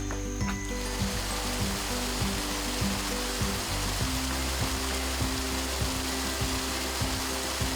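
Yanghun waterfall on Jangsan mountain in Busan, a steady broadband rush of falling water that holds constant throughout, with rhythmic background music playing underneath.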